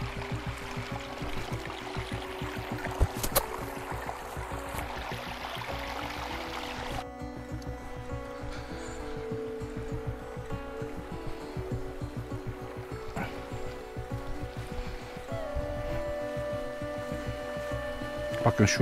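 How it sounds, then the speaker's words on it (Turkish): A mountain stream in a Trabzon highland plateau rushes and flows steadily, a constant broadband wash of water close by with no pauses for nearly twenty seconds. "Bak şu suyun sesi size kadar geliyor."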